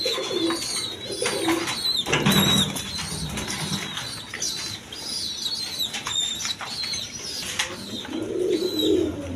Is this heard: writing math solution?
no